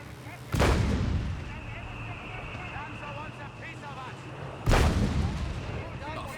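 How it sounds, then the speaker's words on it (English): Two heavy booms from a 75mm howitzer in Company of Heroes 3 strike near and loud, several seconds apart, each with a rolling tail, while a voice speaks underneath between the blasts. "Engaging with its 75mm howitzer."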